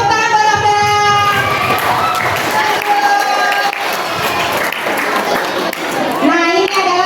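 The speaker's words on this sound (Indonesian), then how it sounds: "Oke, tepuk tangan buat Abdul." A crowd of students and teachers claps for a student at a school orientation at SMP Muhammadiyah Pabuaran, with loud sustained applause mixed with cheering and overlapping children's voices throughout.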